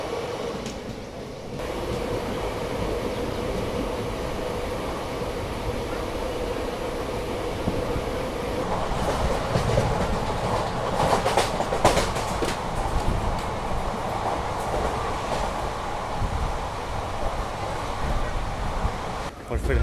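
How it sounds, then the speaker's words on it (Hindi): The Awadh Express pulls into Barabanki Junction railway station in Uttar Pradesh with a steady, loud rolling rumble, and a burst of wheel clatter and rattling comes midway as it slows. "फ़िलहाल अपना अराइवल हो रहा है बाराबंकी जंक्शन रेलवे स्टेशन पे"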